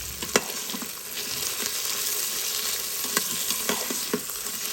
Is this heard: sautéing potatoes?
yes